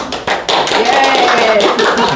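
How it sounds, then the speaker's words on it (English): A small club audience applauds at a bird society meeting, dense overlapping claps that start abruptly and carry on steadily, with a faint voice underneath. "we're going to have the applause."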